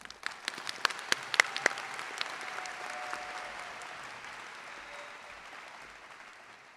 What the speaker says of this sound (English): will you please join me in a round of applause for Matthias Butterfield